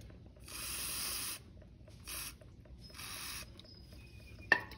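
Short hissing bursts of aerosol cleaner sprayed onto the float needle of a Briggs & Stratton 6.0 carburetor on a 1997/98 Scotts by Murray lawnmower, three quiet separate sprays followed by a faint click.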